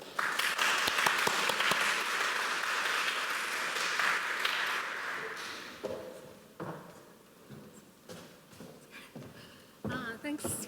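Audience applause welcoming Maria Nugent to speak at a symposium, loud and sustained at first, then thinning into scattered claps and the shuffle of someone approaching the podium.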